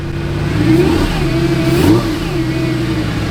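A Lamborghini's engine revs in sport mode, close and loud, with two swelling rises in pitch over a steady mid-range drone and an aggressive exhaust note.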